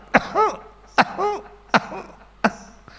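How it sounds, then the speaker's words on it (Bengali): A person coughing and clearing the throat after smoking ganja, four sharp harsh bursts spaced about once per second, close and loud, with no talk. "কাশছিস কেন?"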